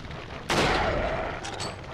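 A single sharp rifle shot cracks in the Resident Evil 4 game on PS2, a sudden loud burst followed by a fading ringing tail over low background game sound.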